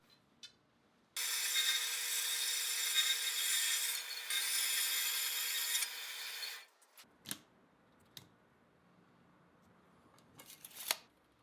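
A steel bar stock being cut to length for crucible lifting tong handles, a loud steady grinding cut of about five seconds, followed by a few scattered clanks and taps as the piece settles.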